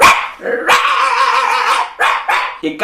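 A dog barks loudly and close, a long sustained bark followed by several shorter sharp barks in quick succession, with no other sounds around it.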